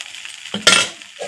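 Green gram dosa batter poured onto a hot pan, with a brief burst of sizzling and a scraping stir partway through, close up, fading into a soft hiss.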